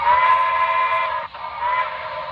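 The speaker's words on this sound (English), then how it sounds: "you can also toggle the whistle between different ones" A BLI 2-8-0 model steam locomotive sounds its whistle: one steady, moderately loud chime that briefly dips partway through and then continues, alone with no talking.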